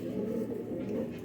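Pakistani pigeons coo softly in a low, rolling murmur, faint and continuous with a little background noise.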